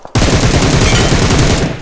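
Rapid automatic gunfire from the PUBG Mobile game bursts in loud and dense, a continuous rattling stream of shots lasting nearly two seconds, with no talking over it.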